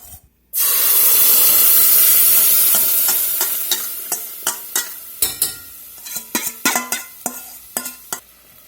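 Red chili sauce hitting hot shimmering olive oil over medium-high heat, bursting into a loud spraying sizzle, then settling into a steady fry broken by a run of sharp popping spatters.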